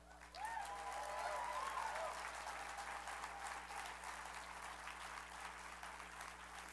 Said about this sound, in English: I hope we can have a round of applause for Free Speech TV.